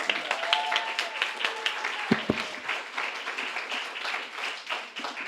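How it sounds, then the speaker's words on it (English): A book event audience gives a warm round of applause, a moderate steady patter of many hands clapping at mid distance, with a brief tap or thump partway through. "Let's please give them a warm round of applause."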